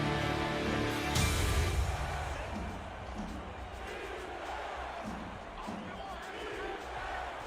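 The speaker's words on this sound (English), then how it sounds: "This cold Buffalo crowd trying to rally their defense." Stadium crowd noise from a simulated football game in cold Buffalo, a broad roar with a sharp burst near the start, then steady murmuring crowd swell under a commentator's voice.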